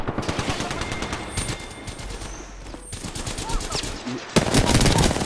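Rapid automatic gunfire in the video game Apex Legends, dense bursts of shots rattling almost continuously with a brief lull, loud and close, with players' voices faintly present underneath.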